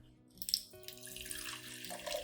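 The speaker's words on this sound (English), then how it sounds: "Then add about 500 milliliters of clean water." Clean water, about 500 milliliters, pours into a clean glass with a steady splashing stream whose tone shifts as the glass fills, close and clear with no talking.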